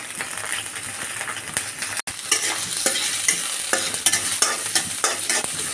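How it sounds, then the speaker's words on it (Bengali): Chopped onions sizzle in hot oil in a pan with a constant crackling hiss, punctuated by scraping stirs throughout; one brief break near the middle, no voices. "প্রথমে আমরা তেল গরম করে নিলাম, তারপর দিয়ে দিয়েছি হচ্ছে পেঁয়াজ কুচি"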